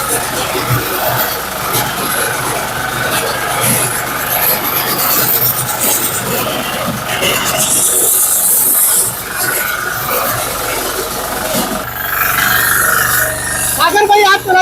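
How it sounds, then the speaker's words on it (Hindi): A self-start power reaper machine with a steering system runs steadily, its engine hissing and rasping loud and close throughout, with a person talking over it. "આ રીતનું આખું પાવર રીપર મશીન ચાલી શકે"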